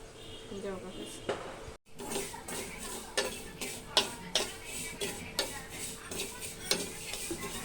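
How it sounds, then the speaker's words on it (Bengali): Cumin seeds dry-roasting in a pan in a home kitchen, heard as a steady soft crackle with a series of sharp scraping stirs and light metallic taps recurring every half second or so, fairly close. "জিরেটা একটু ভেজে নিচ্ছি"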